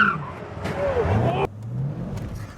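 Corvette Z06 driving and accelerating in rear-wheel drive, engine droning low and steady with a brief squeal and a sharp shift in tone midway, under faint chatter from occupants.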